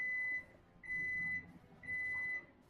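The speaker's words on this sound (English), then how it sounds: "Hold on, what is that beeping?" An electronic beeper sounds three sustained, evenly spaced high-pitched tones, each about half a second long, against quiet background room noise.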